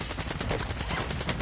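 Rapid gunfire in a video game plays as a dense, steady burst of sharp shots throughout, loud and continuous with no gaps.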